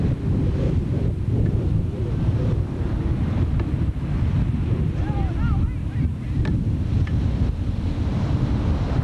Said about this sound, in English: There's the crashing surf behind us right back there.